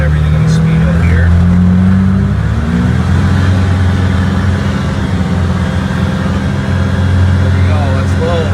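A KBQ Defender vehicle rolls along in low gear, a loud, steady engine drone with a brief shift in pitch early on, while a person talks over it.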